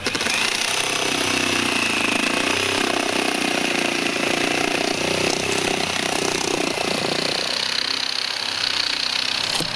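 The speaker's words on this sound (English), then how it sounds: "So we're taking the Sawzall and eliminating it." A Sawzall reciprocating saw cuts away a fiberglass roof lip during a leaky roof repair, a loud, continuous buzzing rattle that runs close and unbroken, with slight shifts in pitch.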